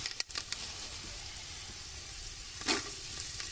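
Dried chilies sizzle and crackle as they fry in hot oil, a steady close hiss broken by a few sharp stirring clinks near the start and a brief scrape later.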